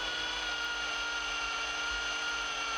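A power driver steadily whines as it drives a screw into the tail of a wooden crankbait, a continuous close, even tool tone with no talking.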